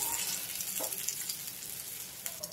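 Green chickpea seekh kebabs shallow-fry in oil on a flat tawa, a soft steady sizzle with faint crackles and occasional small pops, fairly close and without voices.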